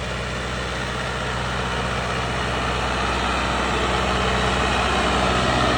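A heavy tractor engine, a Sonalika Arjun Novo or Farmtrac 60, drones steadily and loudly at idle, a constant low rumble with no pauses or voices.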